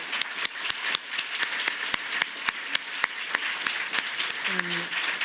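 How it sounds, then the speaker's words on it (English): Scattered, uneven applause greets an arts and heritage award for Edmonton, with sharp individual claps at loose intervals while voices murmur and talk in the background. "So, big round of applause"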